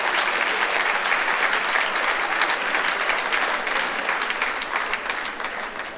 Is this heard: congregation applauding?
yes